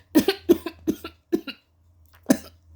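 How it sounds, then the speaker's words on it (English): A person coughs repeatedly in a close, dry series of about seven short hacking bursts with brief pauses, alone and near in a quiet room. "How long have you had that cough?"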